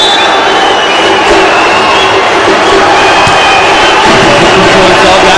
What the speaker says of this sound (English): He's getting better and better as the crowd gets louder and louder